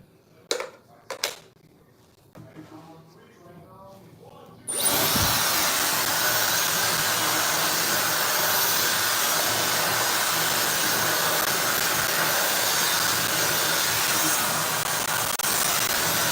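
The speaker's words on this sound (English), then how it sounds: "I'm using a Dyson blow dryer." A Dyson blow dryer switches on after a few seconds of quiet handling knocks, then runs as a loud, steady, breathy whoosh with a high whine that holds to the end.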